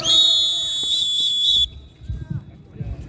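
Referee's whistle at a basketball game between Serbia and Finland, a shrill steady blast of about a second and a half with slight warble, followed by crowd noise and thuds.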